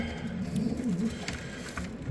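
Young racing pigeons coo softly in a loft, a low warbling call rising and falling over a steady background murmur, fairly close and moderately quiet.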